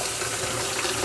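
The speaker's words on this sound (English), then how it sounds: "we're going to run the cold water" Cold water pours from a kitchen tap onto rice in a pot, a loud, close, steady rushing splash that holds unbroken for the whole moment.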